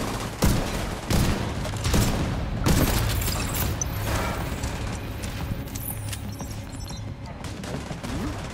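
Gunfire in The Division 2 video game on the Summit at hard difficulty, a dense run of shots and bursts through the whole stretch with a steady background hum and a few faint voices underneath.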